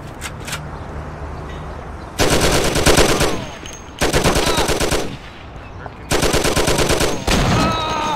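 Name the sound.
gunfire in video game Mafia: The City of Lost Heaven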